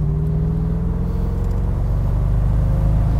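A 2006 Mercedes SL55 AMG in comfort mode pulls away in a straight line, its deep engine note steady and loud with a slowly rising tone, close and continuous for a few seconds with no talk.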